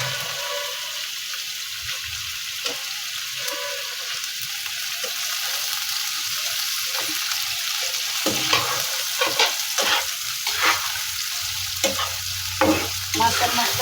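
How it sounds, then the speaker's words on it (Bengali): Fish sautéing with spices in a pan, tilapia, phaisa or chewa fish, a steady broadband sizzle with scraping stirring strokes growing louder and more frequent toward the end, no talking. "এবং এর সাথে আমি মাছটা একটু কষাই নিচ্ছি"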